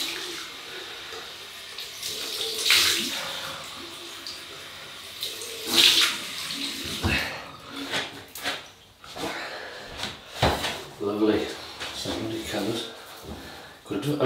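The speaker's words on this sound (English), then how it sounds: "Cold water rinse." Cold tap water runs into a sink for a rinse after a wet shave, splashing in uneven bursts as hands move through it, with someone talking over the flow.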